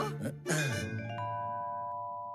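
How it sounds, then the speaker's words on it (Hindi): In an animated cartoon, a brief voice is followed by a single clear bell strike that rings on with a long, fading tone. "घंटी बजाओ।"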